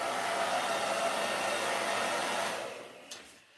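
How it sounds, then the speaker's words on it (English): A hair dryer on its cool setting blows steadily, a loud, close, continuous whoosh that holds for about two and a half seconds before cutting off and fading, with no talking. "I do recommend using a blow dryer"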